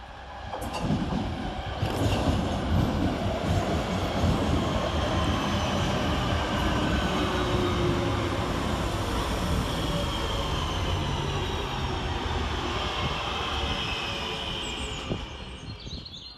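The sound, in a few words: Northern class 323 electric train arriving at Kidsgrove station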